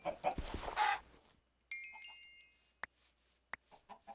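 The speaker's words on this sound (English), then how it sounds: "Oh, more chickens." Chickens cluck in the Minecraft video game: a few quick, close clucks at the start, then sparse soft clicks and short blips over near silence.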